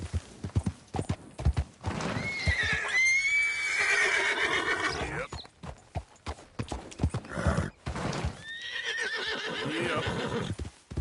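A horse in Red Dead Redemption 2 on PS4 gallops with rapid, close hoofbeats throughout and lets out two long, loud neighs, one early and one near the end.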